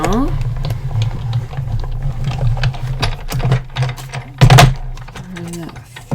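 Paper die cutting machine cranking a flower petal die set through, a steady low mechanical hum and whir with scattered clicks and a louder clunk near the end, fairly close.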